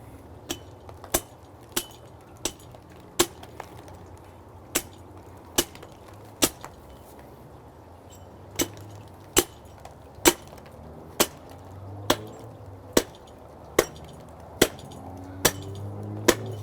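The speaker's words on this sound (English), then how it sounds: "I typically use a hatchet" A hatchet chops through the ribs while a front shoulder is removed from a carcass. About twenty sharp, close cracks land at a fairly steady pace, with no talk between them.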